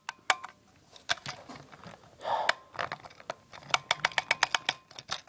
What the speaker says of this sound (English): It makes a terrible clicking noise.